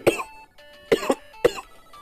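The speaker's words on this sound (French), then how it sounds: "Je tousse un peu" Three separate coughs from one person, close and fairly soft, spaced out with short quiet gaps between them.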